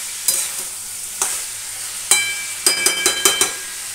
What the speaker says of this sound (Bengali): দেখো সবজিটা ভাজা হোক